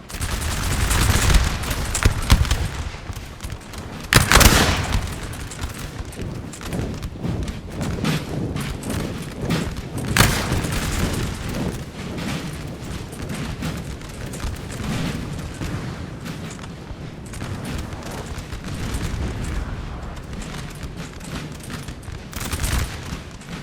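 Battle in Napoleon Total War, with artillery discharging canister shot amid ongoing musket volleys and thuds; a couple of louder blasts stand out over a continuous crackling din of gunfire, with no talking.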